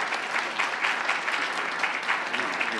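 An audience applauds at a UC Davis tea symposium to welcome speaker Paul Berry, a steady, even patter of many hands clapping throughout, without voices.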